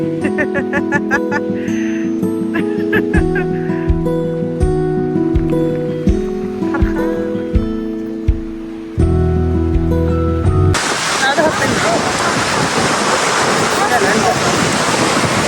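Music plays for most of the clip. It then cuts to a loud, broad roar of sea waves and surf on a beach, mixed with wind buffeting the microphone.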